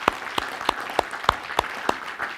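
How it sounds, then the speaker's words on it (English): Scattered, sparse clapping from a small audience at the pitch finals of a Garage48 wood hackathon, with about eight distinct claps spaced irregularly over a couple of seconds and no voices over them. "Let's give everyone, all the ideas, a big round of applause"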